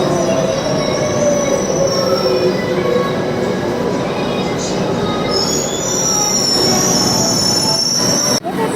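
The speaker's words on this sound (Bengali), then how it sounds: "এটা হচ্ছে মেট্রো রেল" A Kolkata metro train rolls along the track with loud, sustained wheel squeal over a constant rumbling roar, heard from close by inside or beside the carriage.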